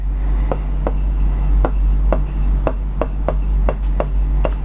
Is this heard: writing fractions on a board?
yes